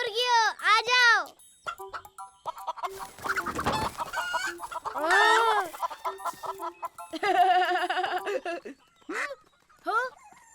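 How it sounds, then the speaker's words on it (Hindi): Farm chickens cluck and call in repeated bursts close by, with a voice and other talk in between as the birds are fed grain from a bucket. "हे हे मुर्गियों, आ जाओ।"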